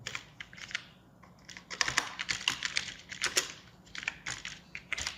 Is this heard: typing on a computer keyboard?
yes